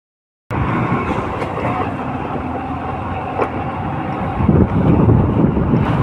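At a railway station a train rumbles steadily with a low mechanical roar and wind buffeting the microphone, growing slightly louder toward the end.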